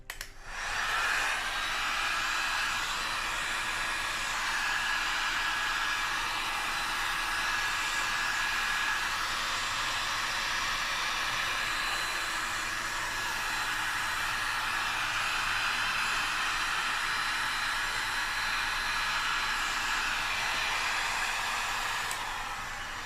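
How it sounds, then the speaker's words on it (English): A heat gun blows steadily over resin being poured for charcuterie and cutting boards, a continuous close whooshing, hissing airflow with a faint high whine that runs unbroken for over twenty seconds. "I'm going to try blowing it around a bit with the heat gun"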